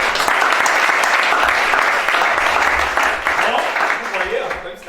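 A church congregation bursts into sustained, loud applause and cheering that holds for several seconds before gradually thinning out.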